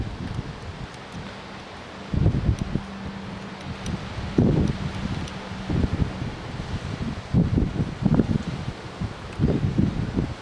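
Outdoor wind in Jacksonville buffets the microphone in loud, uneven gusts over a faint steady hum, with no one talking.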